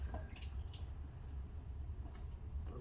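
Water trickling and dripping out of an engine water passage after a freeze plug is removed, a faint low gurgle with a few soft splashy drips, quiet and close, with no voices.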